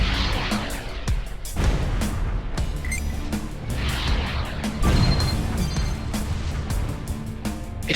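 Missiles fire at targets in the Everspace space-combat game as dense, continuous rumbling blasts and crashing impacts. Sharp launch pops recur over the steady roar.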